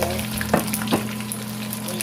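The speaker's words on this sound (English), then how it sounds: "You're gonna hear it sizzle because it's oil." Oil sizzles steadily with a broad hiss, with two brief louder crackles as chicken hits the pan.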